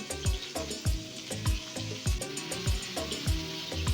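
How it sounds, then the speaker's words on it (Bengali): Boiled carrots fry in refined oil in a kadai, a constant sizzle broken by rhythmic scraping strokes of a spatula roughly twice a second, close and fairly loud, with no talking. "গাজরটাকে তেলের মধ্যে একটু নাড়াচাড়া করে নিচ্ছি"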